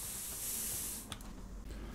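Scent-masking spray applied in the hunting video game theHunter Primal, a close, continuous aerosol hiss for about a second followed by a few softer short bursts.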